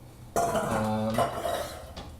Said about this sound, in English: We got a lot of dishes going on here.